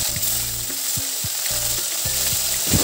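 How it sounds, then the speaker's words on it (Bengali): Fish frying in hot mustard oil in a pan, a loud, even sizzle and spatter heard close up with intermittent scraping, no talking over it. "এলাম ওই মাছগুলো দিয়ে ভালো করে ভাজি নিম।"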